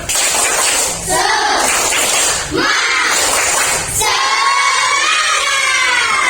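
A group of children or students does the tepuk semangat clapping chant in a classroom, loud rhythmic claps mixed with shouted chanting voices in several bursts.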